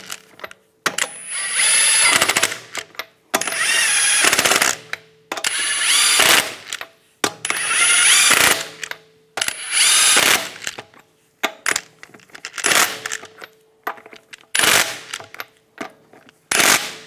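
Power tool, likely an impact wrench, spinning lug nuts onto a car wheel in repeated loud bursts of a second or two, each a harsh rattling whir with short pauses between, the later bursts briefer.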